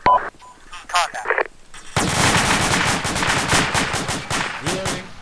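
ARMA 2 rifle gunfire at a tactical MOUT training course, loud rapid sustained bursts of shots after a few brief sounds at the start, with a radio-like voice heard faintly.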